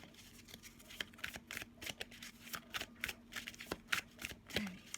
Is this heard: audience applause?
no